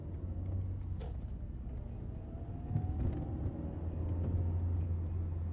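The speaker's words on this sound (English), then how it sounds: "you can hear the traffic from the bedroom window" Steady traffic rumble drifts in through a bedroom window in the evening, a continuous low wash of passing cars with faint distant swells and no voices.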